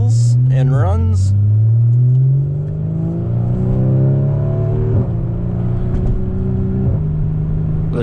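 A 2014 Porsche 981 Boxster with the base 2.7-liter engine and PDK dual-clutch gearbox revs up, drops with a quick shift, then pulls steadily with a smooth rising engine note, heard loud and close from inside the car.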